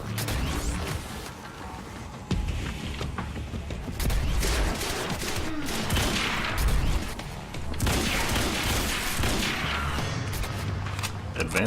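Advanced SMG firing three-round bursts in the video game Quantum Break, dense gunfire and crashing impacts filling a loud, busy firefight with speech mixed underneath throughout.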